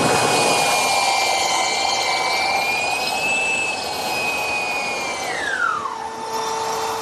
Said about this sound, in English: this is where my wide belt sander comes in real handy, doing a desktop like this